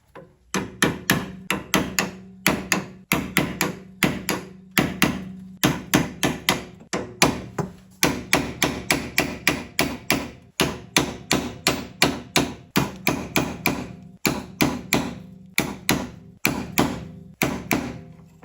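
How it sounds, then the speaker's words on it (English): Repeated sharp metallic hammer strikes on a long pry bar ring out in fast, steady rhythm, close and loud, with brief pauses between flurries, during a 2002-06 Honda CR-V front suspension rebuild. "I'm going to use a long pry bar and a hammer"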